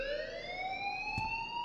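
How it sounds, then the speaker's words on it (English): A school alarm rings in the video game Life Is Strange, a steady rising electronic siren tone that holds at moderate volume with a brief click partway through. "please turn off that alarm"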